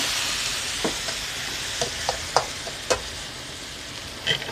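Mixed vegetables and straw mushrooms stir-fried in oyster sauce after a splash of water, with a steady close sizzle broken by several sharp scrapes and knocks of the spatula against the pan.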